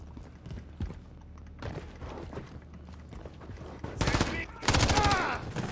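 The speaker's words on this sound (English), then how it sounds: "There's enemy fire." Gunfire in the Call of Duty: Modern Warfare 3 campaign, a few scattered shots early, then two dense bursts of rapid automatic fire near the end, loud and close.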